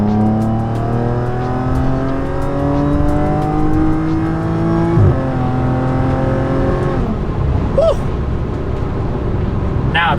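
Aggressive valved exhaust on an Audi S4 pulling hard up a highway on-ramp, a raspy engine note rising steadily in pitch through the gears with a brief shift dip midway, loud and close throughout.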